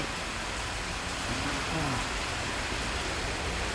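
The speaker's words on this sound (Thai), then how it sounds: "วันนี้หน้าฝน หน้าฝนนะครับอ่าเสียงดังนิดนึง" Rainy-season rain falls over a Thai car auction yard, a dense, steady hiss of downpour that stays constant and fairly loud throughout, with no clear speech over it.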